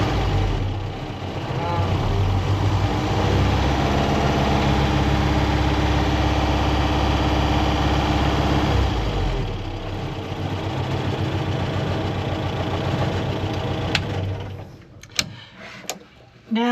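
Series Land Rover engine started and idling, a steady close low rumble that drops off partway through before fading to quieter mechanical clicks.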